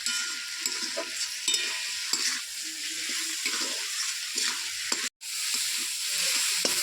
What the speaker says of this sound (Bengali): আমি কিন্তু পেঁয়াজটা খুব বেশি লাল করে ভাজবো না, ঠিক এরকম করে ভেজে নেবো।